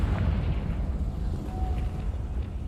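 A Confringo fire spell bursts in Hogwarts Legacy, a heavy low rumbling explosion that rolls on throughout, dense and booming, fairly close.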